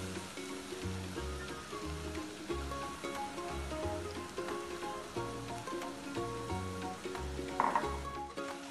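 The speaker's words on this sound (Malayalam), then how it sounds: "ഇനി ഏകദേശം 1-2 മിനിറ്റ് നമുക്ക് നന്നായിട്ട് ഇതൊന്ന് വഴറ്റി കൊടുക്കാം" Grated carrot with raisins sautés in a pan for carrot halwa, giving a soft continuous sizzle with repeated scraping stirs, alone with no talk.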